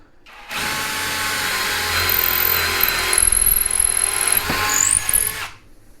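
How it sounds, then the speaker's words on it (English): A Saker cordless drill on its most powerful setting bores through a 2x4, a loud, steady high-pitched whine with grinding bite that runs about five seconds before cutting off. "we'll just drill through this 2x4"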